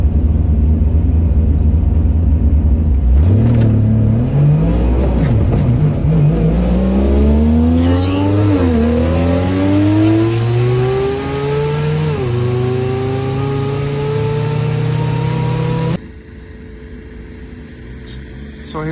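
In-car drag run of a Mazda RX-7 with a three-rotor billet rotary engine and DCT gearbox at Darlington Dragway: loud, sustained high-revving engine climbing through several upshifts, rising in pitch with brief dips at each shift, then cutting off abruptly near the end.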